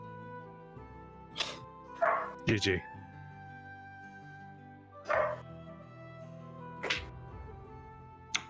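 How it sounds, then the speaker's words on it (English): Several short, sharp dog barks and yips come in scattered bursts, a few seconds apart, over a quiet bed of sustained background music, with some talking in between. "dogs barking"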